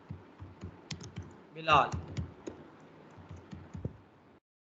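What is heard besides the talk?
typing a name on a computer keyboard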